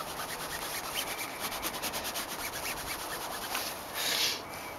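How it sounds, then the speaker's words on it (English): A cloth rubs firmly over a vinyl sticker graphic held under application tape, giving a steady, close, rhythmic scuffing with a brief louder swipe near the end and no talk. "Then just rub this down with a nice cloth."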